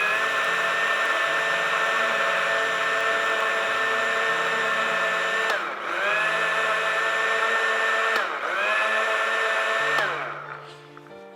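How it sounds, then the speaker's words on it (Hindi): Lassi sweetened with two tablespoons of sugar is whipped with a motorized mixer, giving a loud, steady whine that dips briefly twice as the load shifts, then winds down at the end. "लस्सी को बहुत जितना ज़्यादा बीट करेंगे उतना ज़्यादा अच्छी बनेगी"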